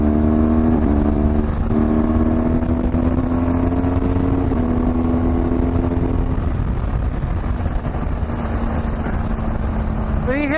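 BMW GSA motorcycle with Shift Assist Pro quickshifter, engine droning steadily with pitch steps as it shifts, rising and falling harmonics over continuous road and wind rumble, close and loud throughout.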